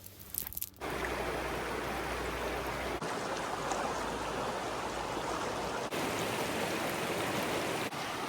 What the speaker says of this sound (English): It is just beautiful river, isn't it?